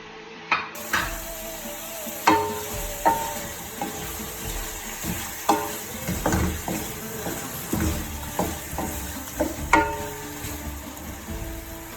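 Butter sizzling in a pan of chicken karahi, a moderate frying hiss with repeated clanks and scrapes of a utensil at a fairly regular pace.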